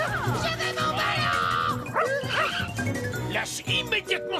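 A cartoon dog barks and yips in a quick, loud run of barks, with excited character voices and busy cartoon effects mixed in.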